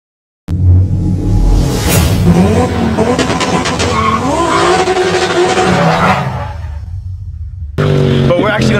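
A 2017 VW MK7 GTI with a Corsa cat-back exhaust and high-flow catted downpipe roars loudly as it accelerates, its engine note rising through gears, then drops off briefly before the engine sound returns.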